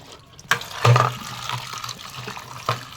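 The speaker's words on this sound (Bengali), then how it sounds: "ভালোভাবে ধুয়ে নিচ্ছি" Running tap water splashes over vegetables and chicken being rinsed in a home kitchen, with a couple of louder gushes and bumps amid a quieter, uneven trickle.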